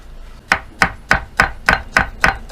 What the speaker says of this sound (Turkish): saman şeklinde doğrayacağız